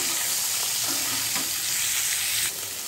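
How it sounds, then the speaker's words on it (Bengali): Cut cauliflower pieces fry in a pan with a loud, constant sizzle up close, broken by a few stirring scrapes, easing slightly near the end. "কেটে নিয়েছিলাম কপিগুলো একটু ফ্রাই করে নেব"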